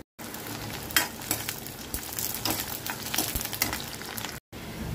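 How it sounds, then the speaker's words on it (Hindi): Onions sizzle and fry steadily in a pan as they turn lightly brown, a close, continuous crackle with occasional stirring scrapes and a brief dropout near the end. "प्याज को हल्का हल्का ब्राउन होने देंगे"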